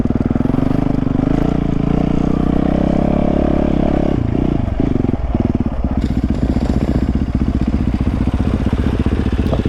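A dirt bike engine revs loud and close while being ridden, its pitch holding steady, then dropping and stuttering through a gear change before settling into a lower, choppy idle-like throb.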